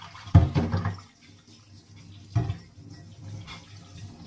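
Water from a kitchen sink tap runs while an item is rinsed for making tomato sauce, in a couple of splashy bursts followed by a quieter trickle, with no talking.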